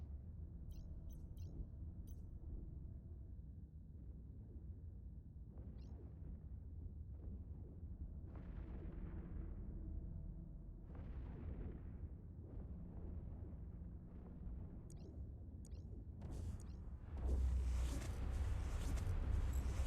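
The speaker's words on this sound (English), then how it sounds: "Gonna go ahead and watch that explosion there." Spaceship destruction in the mobile game Eve Echoes during a high-security mission: a continuous rumbling game soundscape with low booming bursts, swelling to a louder, denser blast near the end.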